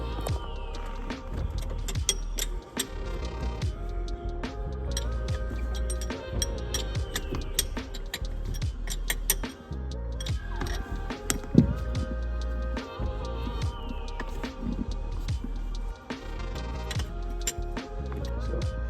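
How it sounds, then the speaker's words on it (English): Metal clinks and tool rattles while bolts are loosened on a boat's flexible prop shaft coupling, a steady stream of small jangling taps and clicks up close with no speech. "First, gonna take off these bolts"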